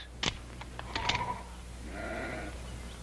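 Sheep bleating in a Western ranch scene, two or three short nearby bleats followed by a fainter drawn-out call.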